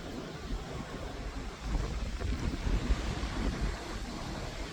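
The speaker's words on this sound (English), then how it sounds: "And once again, here's the beach." Waves roll in at a beach, a broad rumbling wash of surf mixed with wind buffeting the microphone, steady and fairly loud with a slight swell midway.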